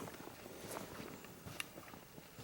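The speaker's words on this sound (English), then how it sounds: "I hear a deer stomping around back here." Deer stomping through brush in woodland beside a clover food plot, heard as faint, scattered thuds and rustles of hooves in leaf litter, distant and low.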